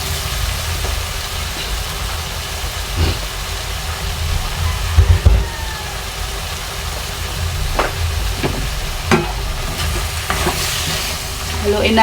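Ampalaya (bitter gourd) fries in a pan while a utensil stirs it, producing a continuous close sizzle with repeated scraping and clacking strokes and a low background hum.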